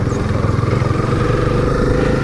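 A Honda CB300R motorcycle engine runs steadily nearby, a continuous low throbbing rumble with a fine rhythmic pulse and no change in pitch, heard on its own without any talk.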